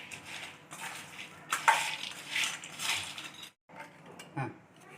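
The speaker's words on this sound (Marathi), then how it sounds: "मग आपण याला चांगलं हलवून घेऊया।" A spoon stirs and scrapes through a mixed snack seasoned with chaat masala and salt, giving a close, clattering rasp in uneven strokes with a brief pause near the end.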